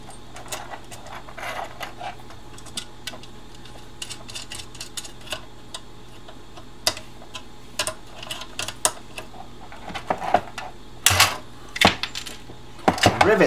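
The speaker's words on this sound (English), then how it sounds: "Rivet them switches in there, baby." Switches being riveted into a small mic preamp enclosure: scattered sharp metallic clicks and snaps, growing louder and denser near the end, over a faint background hum.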